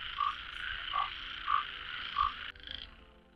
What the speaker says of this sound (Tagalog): Maingay, maraming palaka.